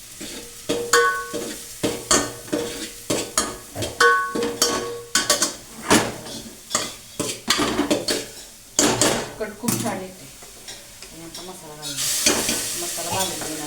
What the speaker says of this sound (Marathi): तेलात सगळं चटणी भाजून देणार आहे